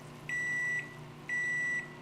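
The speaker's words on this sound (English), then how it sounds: "Why does it sound like a microwave?" Two sustained electronic beeps, each about half a second long and evenly spaced, like a microwave timer, sound as toast finishes in a one-room-apartment breakfast scene of a video game. They are loud and clear over a faint background hum.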